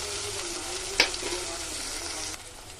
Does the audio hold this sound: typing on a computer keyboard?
no